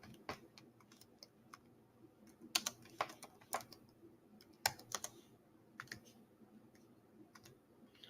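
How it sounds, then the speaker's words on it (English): Quiet, scattered keystrokes on a computer keyboard, uneven clicks and short bursts of typing heard softly in the background with no speech. "I'm gonna type it in the session for y'all."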